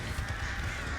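Crows cawing in the Dead by Daylight game, a brief, loud, continuous rasp of caws heard close up over dense game ambience.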